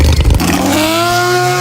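A car with a loud fart-can aftermarket exhaust opens with a rough, rumbling burst, then settles into a sustained, buzzy drone with a strong harmonic whine. It is loud and close, with no voices.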